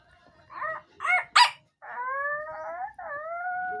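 A human voice imitates a dog's whimpers: three short rising yelps followed by two longer, drawn-out whining cries, close and alone.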